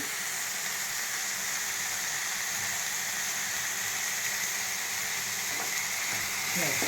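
Vegetarian Mughlai curry sizzling steadily in a pan after sour yogurt goes in, a continuous bright hiss and fry with faint stirring scrapes throughout.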